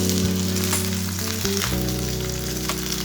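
A cheese sandwich sizzling in a frying pan after being flipped, a close, loud, steady frying hiss with a brief scrape midway, no speech.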